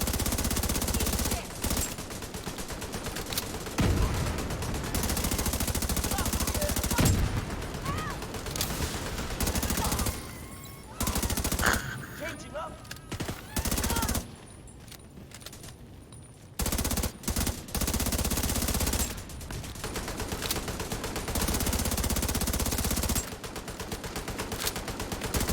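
Rapid gunfire from a squad firing in The Division 2, dense bursts filling most of the stretch with a quieter lull in the middle, while players talk over the shooting.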